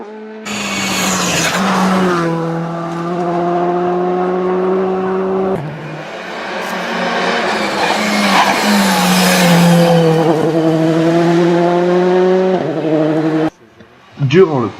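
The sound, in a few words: rally cars racing on rally stage roads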